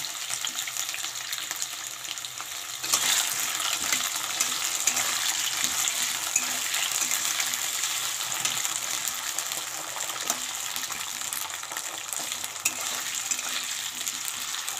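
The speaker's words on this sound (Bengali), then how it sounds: "সেগুলো আলু কেটে আগে দিচ্ছি, কারণ একটু সময় লাগবে ভাজতে" Cut potatoes frying in oil in a home kitchen pan, a steady broadband sizzle that jumps louder after a few seconds and then holds constant, close and continuous with no talking.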